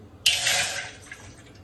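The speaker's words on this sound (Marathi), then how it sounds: "त्याच वाटीने मी पाणी घेते उकड काढण्यासाठी" A bowl of water is poured into a pot, a short close splashing gush that starts abruptly and tapers off over about a second.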